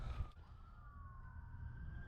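A wailing siren rises and falls faintly in the distance over a steady low rumble of traffic, with no voices.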